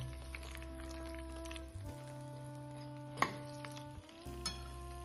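Macaroni in red sauce being stirred in a pan, soft scraping and light sizzle over a steady low kitchen hum, with one brief clink near the middle.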